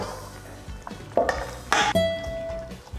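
Chicken and pork soak in a garlic marinade as they are stirred by hand, giving intermittent wet squelches and scrapes against a bowl. A short ringing clink marks one contact with the dish, all close and otherwise quiet.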